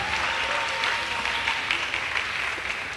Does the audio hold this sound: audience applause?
yes